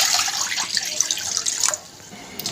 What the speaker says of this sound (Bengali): প্রথমে দেব জল